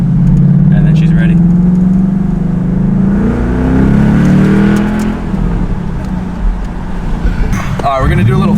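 Ford Mustang GT, 2015-2017, with aftermarket axle-back exhaust, revving hard in a first gear pull: a loud, rising engine and exhaust roar for several seconds that eases off, followed by a brief higher rev near the end.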